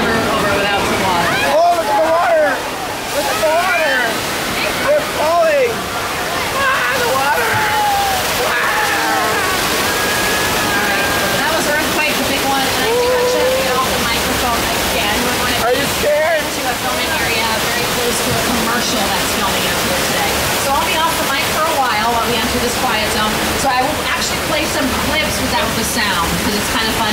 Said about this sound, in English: It's never over without some water.